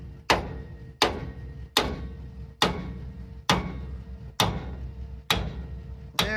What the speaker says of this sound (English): Bigger hammer time.